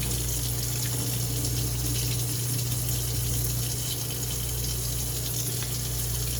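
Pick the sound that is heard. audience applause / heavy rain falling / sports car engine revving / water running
water running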